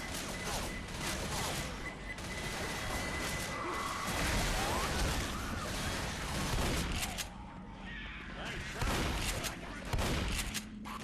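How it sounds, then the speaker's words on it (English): A pipe bomb goes off in the Left 4 Dead No Mercy campaign amid a dense, continuous barrage of gunfire, crashes and whooshing game noise, loud and chaotic throughout, with a voice talking over it. "good opportunity to use the pipe bomb"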